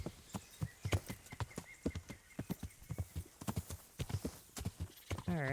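Horse hooves clip-clop in a rapid, uneven rhythm as a horse climbs a steep hill in the medieval video game Kingdom Come Deliverance, loud and close, with a brief whinny near the end.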